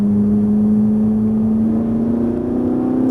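Ferrari 458 Italia engine pulling under acceleration on a track at Fay-de-Bretagne, a loud, steady droning tone rising gradually in pitch from inside the car.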